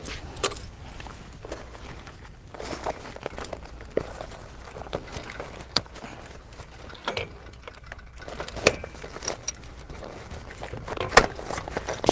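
Keys jangle in small metallic bursts again and again near a bicycle repair setting, close by with light handling noises in between and no talking.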